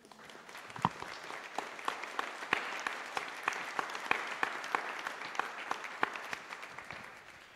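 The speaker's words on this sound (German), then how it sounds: "Aber allererstes habe ich das unbedingte, spontane Bedürfnis, dass wir klatschen." Soft, moderately sparse applause from a seated audience at a German panel discussion on the rule of law, with individual claps clearly separable, steady and fairly distant throughout.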